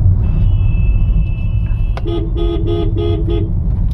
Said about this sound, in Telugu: హారన్ కూడా డ్యూయల్ హారన్